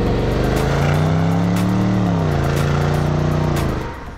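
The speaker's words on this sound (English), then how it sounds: "For starters, the V8 is fantastic." Land Rover Defender 90 V8 engine revving up and holding a deep, smooth roar, pitch swelling and easing back before dropping off near the end; close, loud and alone without talk.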